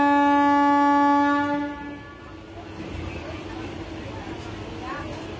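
A MEMU passenger train on the Ranchi to Asansol line at Begunkodar station sounds a loud, sustained horn blast that cuts off after under two seconds, leaving a steady rumbling roll.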